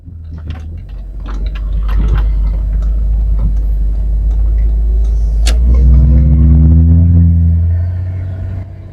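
A 1980s Ford ZL Fairlane with a six-cylinder EFI engine pulls away from inside the cabin, a steady loud low rumble rising in pitch as the revs climb, with ticks and clicks over it and no talking.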